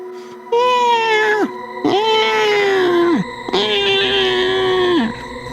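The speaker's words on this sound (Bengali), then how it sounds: "ওর সাথে বুক কাঁপানো বিড়ালের ডাক" A cat yowls three times in a row, each a long, loud, drawn-out wail that bends downward at the end, set as an eerie effect in a Bengali village horror story.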